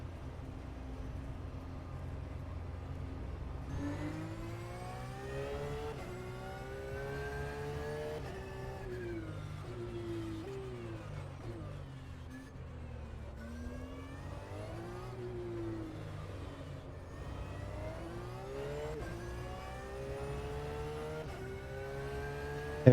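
A Porsche race car engine in the rFactor 2 racing game revs hard through repeated upshifts and downshifts, its pitch rising and falling in clear sweeps across a sustained, steady-level run.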